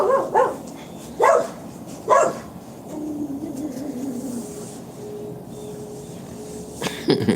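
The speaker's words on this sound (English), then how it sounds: "You heard that dog ball, Camper?" A dog barks in short loud bursts near the start, three distinct barks close by, then a quieter stretch with a faint tonal hum before a few more sharp bursts at the end.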